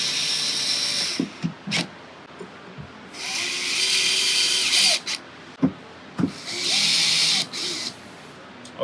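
A power driver whines in several bursts, some short and some sustained, as a screw goes into a bracket on a Jasper table leg assembly, with sharp clicks and knocks between runs and no talking.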